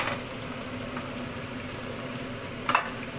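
Onions frying in a pan give a steady, soft sizzle that holds even throughout, with a brief louder crackle near the end and no talking.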